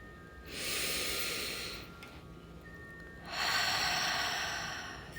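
Two long, loud breathy exhalations, a short pause between them, slow and close, part of a calm cord-cutting ritual with no one speaking.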